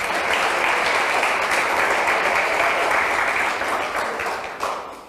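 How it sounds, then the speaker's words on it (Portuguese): A church congregation claps at a Pentecost sermon, a dense, steady wash of applause from many hands that holds loud and even before thinning slightly near the end. "Dê um aplauso a Jesus se você é crente."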